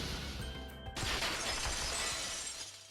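A world-shattering effect from the video game Danganronpa 2: a loud, sustained burst of breaking glass that crashes in after a brief lead-in and fades over a couple of seconds.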